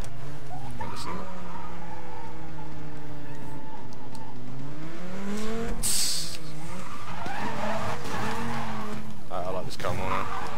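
A Dodge Viper racing in Need for Speed Most Wanted gives a loud revving engine that climbs through the gears, then sharp tire squeals and skids, with a player talking over it.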